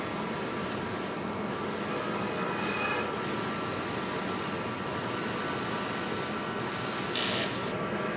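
Steady mechanical whirring and rubbing of a sublimation printer carriage running a print head cleaning, with faint intermittent clicks throughout.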